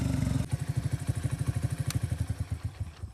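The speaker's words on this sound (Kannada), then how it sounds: "ಸೌಂಡ್ ನೋಡಿ RX ಥರ ಇದೆ. ಬಟ್ RX ಅಲ್ಲ, ಇದು ಎಕ್ಸ್ಟ್ರಾ ಫಿಟ್ಟಿಂಗ್ ಮಾಡ್ಸಿದ್ ನೋಡಿ." A motorcycle fitted with an aftermarket silencer that gives it a Yamaha RX-like note, close by, its exhaust thumping in a fast, even, pulsing rhythm after a brief rougher opening, no talking.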